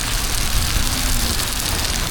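Steady rain pours down outdoors at a night motorcycle meet, a dense, even hiss of falling drops filling the scene without pause.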